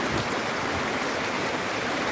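Heavy rain pours down steadily in the open at a vegetable farm in Sandol village, Latur district, a dense, unbroken hiss filling the space close around with no voices.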